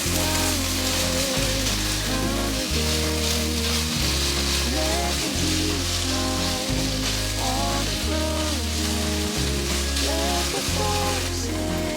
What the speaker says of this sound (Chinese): 炒到醬料都有香了